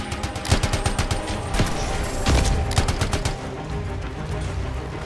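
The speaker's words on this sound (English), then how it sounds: "they are returning fire" Enemy soldiers fire at the player in the video game Anthem, with loud, dense bursts of rapid gunshots and overlapping volleys that continue steadily throughout.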